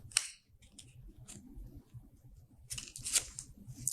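Tarot cards being drawn and handled, crisp slides and flicks of card stock in short bursts at the start and near the end, close and fairly quiet.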